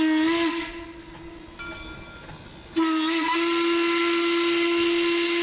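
Train steam whistle blowing loudly in two shrill, sustained blasts separated by a quieter gap, with a hissing rush of steam around the tones, heard alone without talk.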